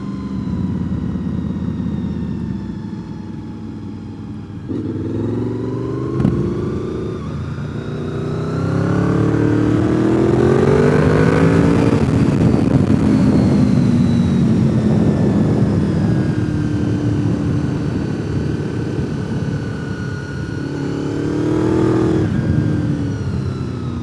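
Motorcycles riding the mountain road at Deals Gap, engines droning and rising in pitch as bikes accelerate and pass, a continuous loud roar lasting throughout with several swells.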